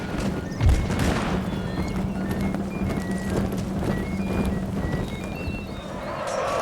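Cavalry charges in a Napoleonic Total War battle at Ligny, with many hooves drumming in a dense galloping rumble, horses whinnying and a thud near the start, loud and continuous.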